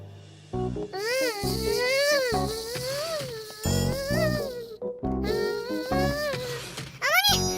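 A cartoon character's voice imitates a buzzing fly, a series of wavering, sliding buzzes repeated several times with short breaks, loud and close.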